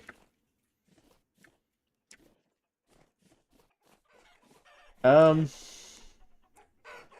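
Chicken squawking from a coop in the game Vintage Story: one loud, harmonic fowl call about a second long stands out from near silence, with a few faint clucks and scratches scattered before and after it.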